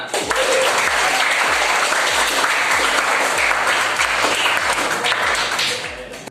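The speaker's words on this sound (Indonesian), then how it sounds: "Beri tepuk tangan untuk kita semua." A classroom group applauds steadily in a dense, loud burst of many hands clapping together that holds for several seconds and then tapers off at the end.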